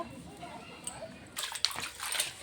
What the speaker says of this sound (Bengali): এখন আমি শাকটা ধুয়ে নেব